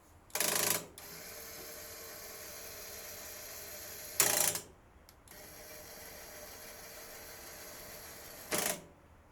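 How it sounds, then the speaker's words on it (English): Three short bursts of sharp mechanical clicking from the built-in clutch of a Cub Cadet 147 tractor, spaced a few seconds apart, cut through a steady low background hum. "That clicking sound you hear is just a clutch. It's built-in clutch."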